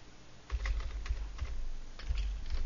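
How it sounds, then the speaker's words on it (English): Typing on a computer keyboard, a run of close, crisp key clicks in irregular bursts with no talk. "we're just going to type stuff in here"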